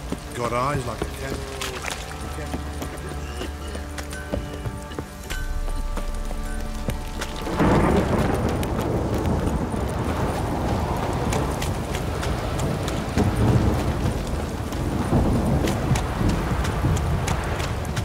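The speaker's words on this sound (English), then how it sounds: "This downpour's a bastard." Heavy rain pours down in The Witcher 3, swelling into a loud, steady hiss about halfway through after a quieter musical passage, with faint hoofbeats under the downpour.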